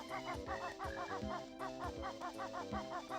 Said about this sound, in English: Also this clucker, which I'm definitely not going to deal with from this distance